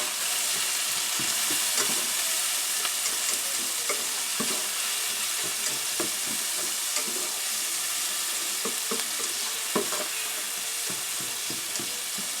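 Minced garlic, green onions and green peppers being stirred in a frying pan, with a steady sizzle and scraping of the spoon, close and continuous, with no talking.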